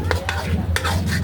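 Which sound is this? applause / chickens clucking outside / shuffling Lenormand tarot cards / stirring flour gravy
stirring flour gravy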